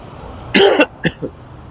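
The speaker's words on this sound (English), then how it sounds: "That's why I'm coughing." A person gives a short harsh cough followed by two smaller throat-clearing bursts, close and sudden against quiet background noise.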